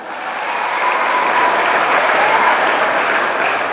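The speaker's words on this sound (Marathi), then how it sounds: "आणि एकदा जोरदार टाळ्या होत्या एवढ्या लांबून मी आलोय माझ्यासाठी." A crowd at a comedy speech breaks into loud, sustained applause for the speaker, swelling quickly and holding as a thick wash of clapping before easing slightly at the end.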